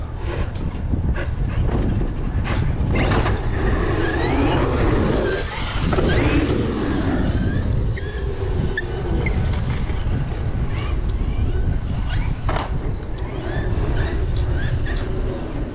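A Traxxas XRT 1/2-scale radio-controlled truck runs loudly and continuously outdoors for about sixteen seconds, its motor and drivetrain roar steady with bursts of acceleration, mixed with wind buffeting on the microphone.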